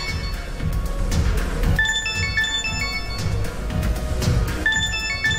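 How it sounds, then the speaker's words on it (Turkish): A mobile phone ringtone repeats a bright melodic pattern for several seconds, ringing steadily over a low background hum with no talk. "Telefonun çalıyor."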